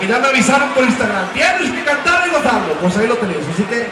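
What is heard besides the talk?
No everyday noises stand out.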